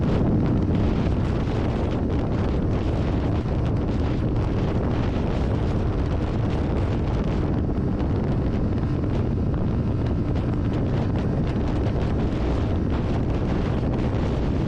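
A Kawasaki Ninja 400 motorcycle cruising in sixth gear on the highway, heard as a steady, continuous roar of engine drone blended with heavy wind rush at the microphone, unbroken throughout.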